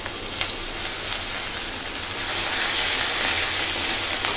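Onions frying in a pan give a dense, continuous close sizzle that grows a little louder near the end as garlic and cumin paste goes in.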